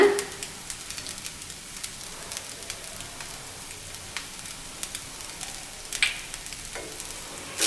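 Vegetable fried rice with spring onion and pepper sizzles in a pan under a constant crackle, while a spoon stirs it with scattered scraping clicks and knocks, a louder clatter near the end.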